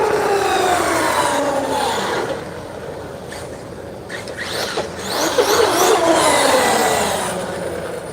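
An RC truck fitted with heavier belted tires on a Typhon, its electric motor whining steadily with rising and falling pitch as it drives and turns at a distance, no speech.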